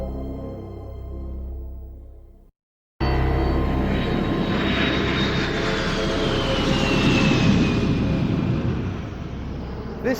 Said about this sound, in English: attack aircraft.